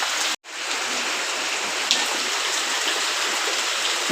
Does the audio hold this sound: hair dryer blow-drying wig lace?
no